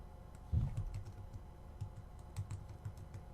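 Keys on a computer keyboard tapped in short uneven runs, soft muted clicks close by in a quiet room, with a slightly heavier keystroke at the start.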